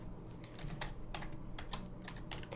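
Close keystrokes on a computer keyboard come in quick, uneven bursts of light clicks over a low steady background hum.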